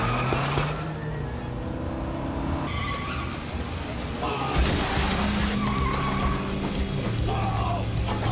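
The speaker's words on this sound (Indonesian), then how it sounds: "Keduanya sempat terlibat adu kecepatan untuk mendorong mobil satu sama lainnya." Cars race side by side and shove into each other in a film scene, engines roaring under repeated tire squeals and skids, with shouting voices breaking through the loud, continuous din.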